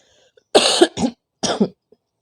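Two loud, close coughs, the first a double burst, separated by a brief pause, with silence around them.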